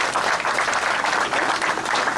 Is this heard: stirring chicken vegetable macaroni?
no